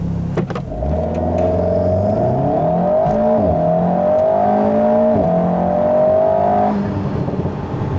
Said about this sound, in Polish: Przekłada się to na takie przyspieszenie od zera do setki.